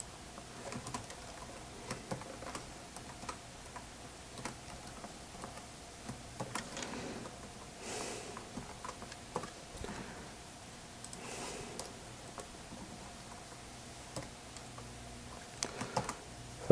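Clattering keystrokes on a computer keyboard come in irregular bursts and pauses, fairly close and moderately quiet, with no talking over them.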